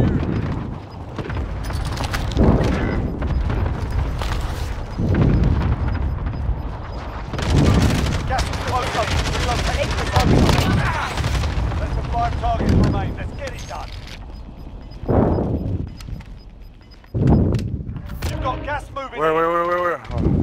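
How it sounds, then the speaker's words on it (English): Cluster strike explosions in Call of Duty Modern Warfare 2019, a series of loud booming blasts arriving every few seconds over about twenty seconds, with people talking between and over the impacts. "Throw in the cluster. Allied cluster strike inbound."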